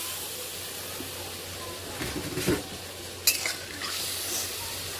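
Bata fish goes into a pan of cooking vegetables with a little sugar and water, raising a sudden hiss and bubbling sizzle over a low background, with a brief clatter partway through.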